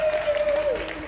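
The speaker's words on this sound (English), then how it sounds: "Can we get a round of applause again for Cascade Choir," Crowd applause for a choir performing at an open market, a short burst of clapping with a steady tone running underneath.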